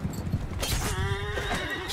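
A horse neighs loudly in a Cataphracts co-op video game, one long whinny rising and falling over a background of game noise.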